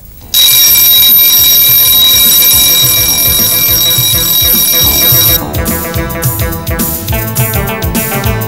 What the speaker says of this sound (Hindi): मैं रोज सुबह 5 बजे उठ जाता हूँ अलार्म लगाकर